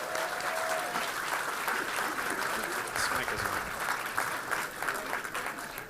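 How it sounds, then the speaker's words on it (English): Sustained, full crowd applause fills the hall at the 13th Annual Equality Florida Broward Gala, steady and dense for several seconds with faint voices mixed in. "So let's give everybody a round of applause for that."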